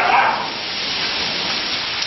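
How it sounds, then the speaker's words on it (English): A spring hailstorm pours down in a dense, steady roar of hitting stones, loud and continuous with no pauses, and no voices. "The hail is really coming down pretty good."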